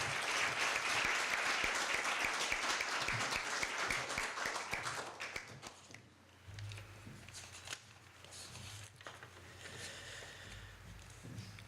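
Warm applause from an audience at a university alumni evening on campus, dense clapping filling the first six seconds before thinning into scattered claps and fading under room noise.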